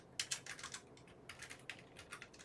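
Fast typing on a computer keyboard: a quick, close run of crisp keystrokes in uneven bursts with brief pauses between them, no voices.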